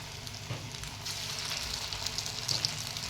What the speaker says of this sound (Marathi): आणि छान मंद गॅसवरती तळायचे आहे।